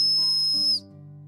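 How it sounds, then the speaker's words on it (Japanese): A shrill, piercing whistle built into a budget pliers-style multitool sounds in one steady blast for under a second, then cuts off, leaving a quiet background. "笛も吹いてみようと思います。"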